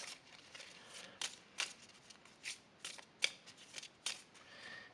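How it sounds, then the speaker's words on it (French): A deck of game cards is shuffled in a quiet room: soft, faint riffling and sliding bursts come in an uneven rhythm of short flicks, with no talking. "sortir la carte entre du boss, de mélanger tout le reste."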